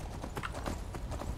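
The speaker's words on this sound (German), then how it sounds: "Oh Mann, ich kann nicht reiten." Horse hooves clip-clop in a steady quick rhythm while riding in the video game Skyrim, close and fairly quiet with no talk.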